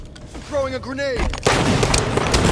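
In Halo: Combat Evolved slayer, a voice speaks briefly before a loud grenade explosion hits, a sharp blast followed by a sustained rumbling roar.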